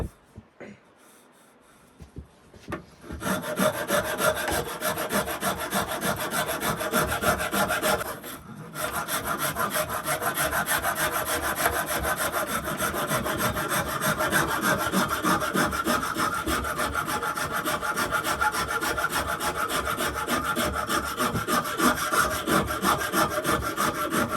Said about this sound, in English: just go around it at this bottom bit with a rasp